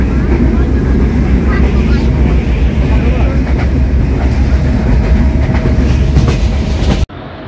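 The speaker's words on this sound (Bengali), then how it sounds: "যে ট্রেন ছুটে চলেছে।" Loud, constant rumble of the Chitra Express passenger train rolling along the rails in Bangladesh with faint rhythmic clatter, running steadily before cutting off suddenly near the end.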